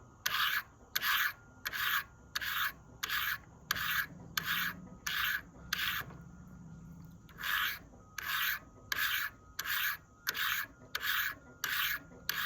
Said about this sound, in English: You can hear like a real gritty sound of that burr grinding